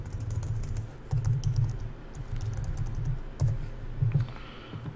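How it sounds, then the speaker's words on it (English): Steady typing on a computer keyboard, close and clear, with bursts of rapid key clicks separated by short pauses, sounding alone without any voices. "I can hear the typing from all the way over here"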